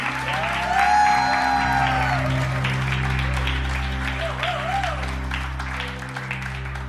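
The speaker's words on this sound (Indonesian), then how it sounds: "Kita beri tepuk tangan." Wedding guests applaud at a church ceremony in Philadelphia, a steady, loud patter of clapping that holds for several seconds beneath soft background music.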